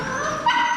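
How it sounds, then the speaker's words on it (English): Dogs yip and whimper in a kennel at Mesa Verde National Park, a brief high-pitched whining bark close to the microphone, alone with no talk. "we just dropped our little puppies off at the Mesa Verde kennel"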